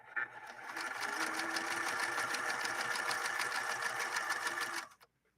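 An 1872 Singer Merritt sewing machine stitching a zigzag runs at a steady rapid clatter for about five seconds, close and clear, then stops abruptly.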